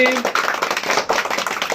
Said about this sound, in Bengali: আরিফার জন্য হাততালি।